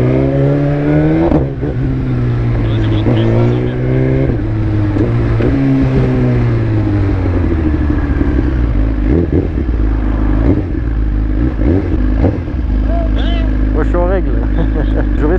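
A reprogrammed 2020 Suzuki GSX-R 1000 R motorcycle rated at 212 hp is ridden with a loud, steady engine note that rises and falls through revs, with a rider talking over it throughout.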